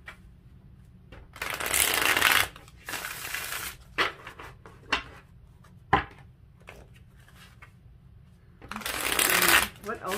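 A deck of tarot cards being shuffled by hand, with bursts of crisp riffling near the start and end and scattered single card taps and flicks between them, close and clear, with no talk.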